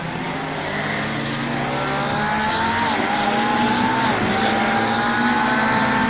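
Race cars roar into the pits at Spa in the game Assetto Corsa Competizione, including a Porsche 992, with a steady, loud engine drone and shifting, overlapping whines throughout.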